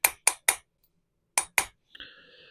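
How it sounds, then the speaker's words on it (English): Hammer strikes on a rear axle part from a 50-year-old MGB: three sharp metallic taps, a pause, then two more, followed by a brief ringing tone, all close and clear. "Did you hear the tone of the hammer kind of change?"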